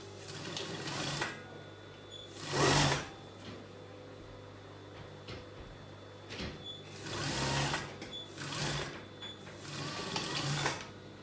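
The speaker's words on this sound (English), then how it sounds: "So I'm just going to sew 1 inch off" A sewing machine runs a one-inch seam on a circle skater dress in several short, loud stitching bursts spread across the stretch, separated by quieter handling pauses, with no voices.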